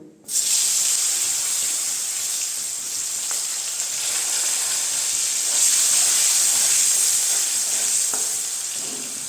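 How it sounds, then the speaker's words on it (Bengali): Cut potatoes drop into hot oil with browned cumin seeds, setting off a sudden loud sizzle that holds as a steady bright hiss, with a few faint stirring clicks. "এর মধ্যে আমি দিয়ে দিব এখন কেটে রাখা আলুগুলো"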